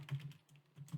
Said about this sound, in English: So now, if I type